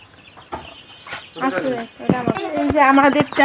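Chickens on a household farm clucking in repeated short bursts, fairly close, with voices talking over them.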